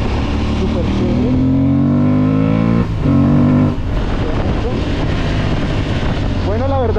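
Aprilia Tuareg 660 motorcycle engine droning steadily while riding over rough terrain, with pitch rising and dropping through gear shifts, loud and close with wind buffeting the microphone and a voice talking over it.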